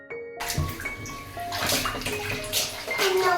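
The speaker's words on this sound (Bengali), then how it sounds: "আর এদিকে অর্ঘ্য ডোডোকে স্নান করাচ্ছে" Water splashes close by as a small child is bathed in a bucket, a continuous churning slosh with bursts of louder splashing throughout.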